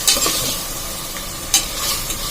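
Onion, ginger and garlic sautéing in hot oil for a vegetable pulao, with a steady close sizzle broken by a few sharp scrapes of the stirring spoon.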